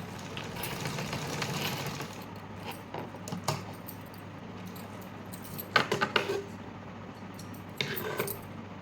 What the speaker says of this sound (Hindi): और अब मैं इसको नॉर्मल जैसे सिलाई करते हैं वैसे ही सिलाई करूँगी।